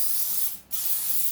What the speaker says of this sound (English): spray some olive oil in the bottom of my pan